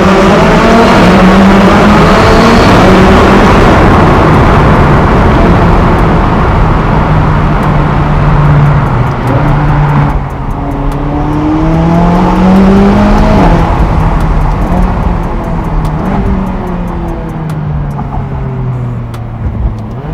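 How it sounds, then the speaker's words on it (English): A McLaren 570S twin-turbo engine revs hard inside a tunnel, loud and close, with rising and falling pitch sweeps through gear changes and a booming echo that fills the space. "Let's see what the turbos sound like under this little overpass."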